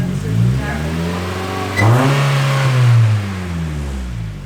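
An Exocet race car engine with a throttle linkage fault idles too high, then revs up, holds and settles back in a loud, close rising and falling drone, with voices nearby.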